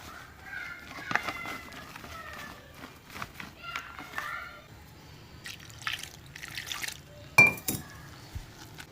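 Bajji batter is stirred in a bowl, with intermittent wet squelches, drips and light clinks close by, while a voice speaks at times.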